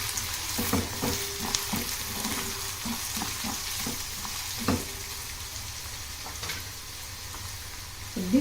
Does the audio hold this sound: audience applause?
no